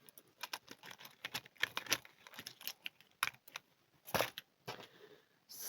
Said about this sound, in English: snip the end off